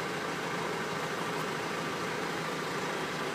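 A car engine fitted with a wet-cell HHO generator runs at a steady idle, a constant close hum and hiss with no change in revs.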